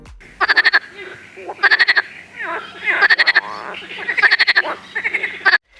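A loud chorus of frogs croaks at night in repeated bursts of rapid pulsed trills, separated by short pauses and rougher calls.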